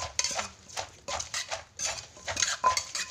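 Green papaya salad with fermented fish being pounded in a mortar, a steady rhythm of about a dozen sharp wooden knocks and scraping clatter, close and alone.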